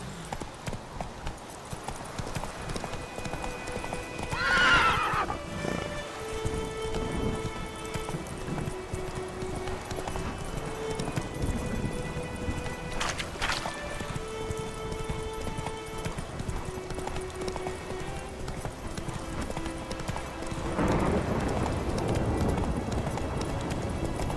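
A horse gallops at a steady clip-clop over ground in The Witcher 3, hoofbeats rhythmic and continuous under background music, with a brief whinny near the start.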